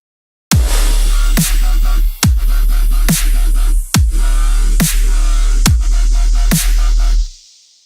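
A heavy brostep bass synth built in Serum with chorus hits in a loud, gritty series of about eight sustained notes, each starting with a sharp attack, then fades out.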